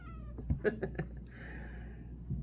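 A pet cat lets out a few short meows close by in a home, over steady background hum, with a brief rustle or clatter at the end.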